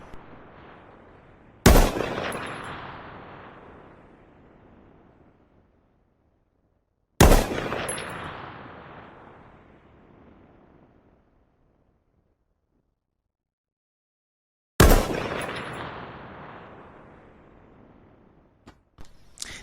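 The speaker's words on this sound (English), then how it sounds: "The M1 SOCOM is a semi-automatic rifle of American origin." An M1 SOCOM semi-automatic rifle fires three single, widely spaced shots in the H1Z1 video game, each a sharp loud crack with a long fading tail, with no talk.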